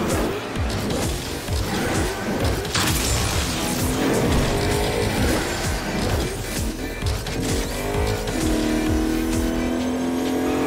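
An enemy vehicle driving in Agents of Mayhem, a loud steady engine roar with revving and shifting pitch, tire noise and scattered in-game effects throughout.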